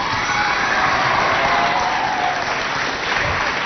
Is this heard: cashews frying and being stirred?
no